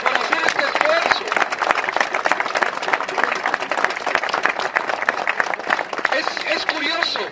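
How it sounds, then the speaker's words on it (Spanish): An audience at a gathering outside the Danish embassy in Mexico claps together in a dense, sustained round of applause, with voices mixed in among the clapping. "nos brindemos todos un aplauso solidario por estar aquí todos"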